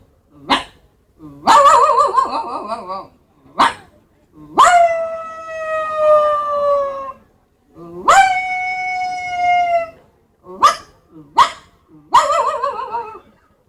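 A voice mimics a small dog, mixing short yelping barks with two long whining, crying howls. The calls come in irregular bursts, close and loud.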